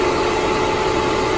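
A Cadillac ATS 2.0T turbo engine idles steadily up close, its cooling fans whirring in a constant, loud broadband rush with no talking.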